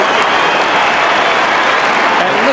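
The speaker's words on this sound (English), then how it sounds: "Listen to that crowd" A large stadium crowd at a 1994 Australian football match between Adelaide and Richmond roars in a steady, loud wash of cheering and applause after a difficult mark, with no single voice standing out.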